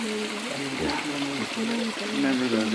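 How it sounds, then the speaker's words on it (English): A waterfall in a valley rushes in a constant broadband hiss beneath people talking nearby, the flowing water staying steady and moderately loud throughout. "There's the waterfall, or the bottom waterfall, the top waterfall."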